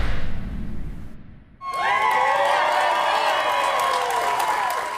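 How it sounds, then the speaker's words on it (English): A huge crowd cheers and applauds loudly to welcome home Chicago police officer Danny Golden, paralyzed after being shot, rising sharply after a brief lull and holding steady. "Now with a huge smile, a huge crowd welcomes Officer Danny Golden back home."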